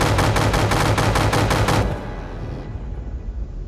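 Rapid gunfire from warships in From The Depths, a dense rhythmic burst of shots, loud and close, that breaks off after about two seconds and leaves a low rumbling battle din.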